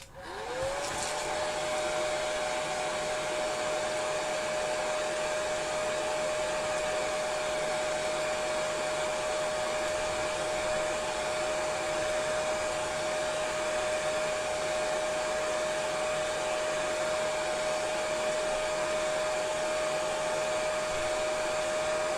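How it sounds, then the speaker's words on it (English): A hair dryer blow-dries a Mod Podge craft project, starting up and then blowing with a steady, even whine and rushing air for over twenty seconds, alone with no talk. "I'm going to blow dry that a little bit"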